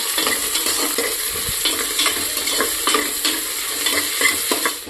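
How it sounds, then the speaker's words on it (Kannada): Onions fry loudly with mint leaves, coriander leaves and three chillies for chicken biryani, a dense close-up sizzle punctuated by frequent scraping stir strokes and soft knocks of the spoon on the pan. "ಇವಾಗ ಚೆನ್ನಾಗಿ ರೋಸ್ಟ್ ಆಗೈತೆ ಇದು ಈರುಳ್ಳಿ"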